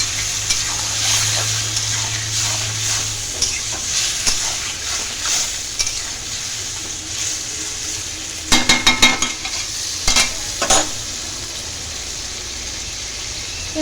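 Small soft fish frying in a pan, a steady sizzle with a burst of sharp metallic clinks and scraping from a utensil near the end, no talking.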